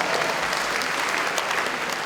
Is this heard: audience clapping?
yes